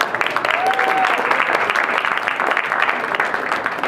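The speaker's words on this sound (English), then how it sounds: "We have to give him a round of applause just for that, all right?" Steady applause from a crowd at a press conference fills the whole stretch, dense clapping at an even level with a brief whistle early on.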